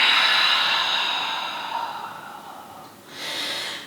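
A long, airy exhale during a yoga flow, heard up close and fading gradually, then followed by a fresh breath drawn in near the end.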